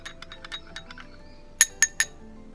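A spoon clinks against a bowl while honey and aloe vera gel are mixed, making a series of light, close taps that end in three sharper, brighter clinks, with no talking.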